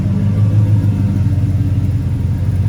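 A tow truck's engine idles steadily after upgrades and maintenance, a loud close low rumble with an even throb and no rattle, continuing without a break.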